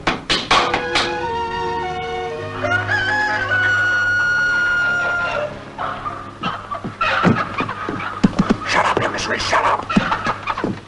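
Chickens and a rooster crow in the morning, with drawn-out clucks and calls over a low hum, then a run of thumps, taps and scratches near the end.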